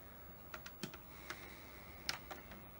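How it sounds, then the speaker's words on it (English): Keys clacking on the keyboard of a TRS-80 Color Computer 1, a string of uneven, separate taps, close and fairly quiet, with no talking. "This keyboard is terrible."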